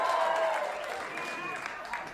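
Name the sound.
audience applause at a comedy club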